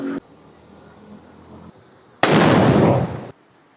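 Diwali firecrackers going off, with one loud sharp burst followed by a crackling, hissing decay lasting about a second against quiet background hum.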